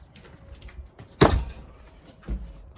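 A house door is opened with one sharp knock or latch clack, then a softer thump a second later, heard close in a quiet room.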